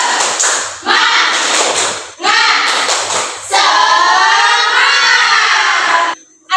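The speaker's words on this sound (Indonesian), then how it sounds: "Yuk, tepuk semangat." Fifth-grade classroom of children doing a rhythmic clapping chant, tepuk semangat: bursts of loud group claps and shouting voices in short phrases, then a longer sustained stretch of chanting and clapping.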